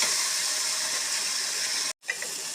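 Cut tomatoes sauté in a pan with a steady, close hiss and sizzle, broken by a brief gap before the frying resumes.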